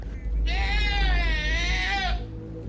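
A goat in a video game lets out one drawn-out, wavering bleat lasting under two seconds, loud and close over a steady low background rumble.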